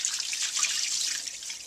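Tap water rinsing soaked radish in a kitchen while cooking Tibetan noodle soup, a steady close hiss of running water with light dripping and splashing throughout.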